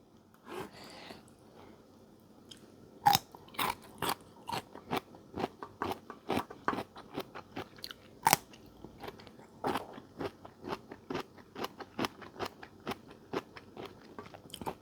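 Close, crisp crunching as a tender, giant fiddlehead fern is bitten and chewed, with a steady run of sharp crunches and a few louder bites, and no talking.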